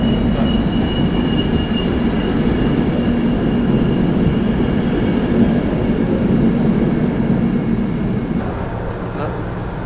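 A train rumbles past continuously with heavy wheel noise, rattling wagons and a faint high squeal from the rails, loud and close throughout.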